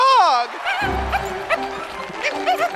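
A dog yips and whimpers in excited bursts while performing a backflip trick, loud and close, with a person's voice talking over the later part.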